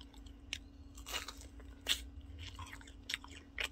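Crunchy, crispy food, slightly burnt and chocolate-coated, is chewed and bitten close up in several crisp crunches spread irregularly over a few seconds, with no talking.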